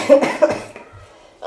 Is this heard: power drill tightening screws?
no